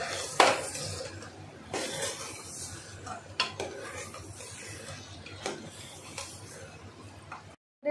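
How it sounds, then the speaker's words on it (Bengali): A spoon scrapes and clanks against a pot while khichuri ingredients are mixed with water, producing intermittent metallic knocks and scrapes over a soft background hiss, with a few sharper taps spaced irregularly. "এবারে এইগুলোকে ভালো করে মিক্স করে নিচ্ছি"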